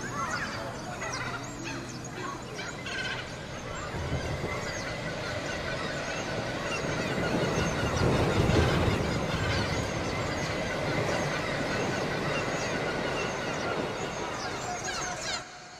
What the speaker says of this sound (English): It's just sort of a seagull shower.